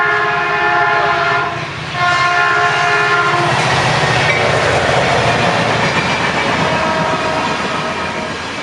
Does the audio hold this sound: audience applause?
no